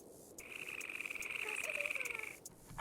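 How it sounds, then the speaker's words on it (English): A steady high-pitched cricket trill at night in Minecraft runs continuously for about two seconds over a quiet background, then cuts off. "But what's that, I say? Crickets!"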